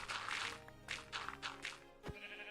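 Sheep in Minecraft bleat in several short wavering calls, faint and somewhat distant, over a low background hum.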